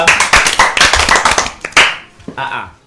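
A church congregation clapping their hands together in a fast, loud, rhythmic beat for about two seconds, then a few scattered claps as it winds down.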